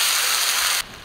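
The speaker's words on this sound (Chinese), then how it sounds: "倒入开水" Boiling water poured into a hot pot hisses loudly and steadily as broad spray-like noise, then cuts off abruptly, leaving only a quiet simmer.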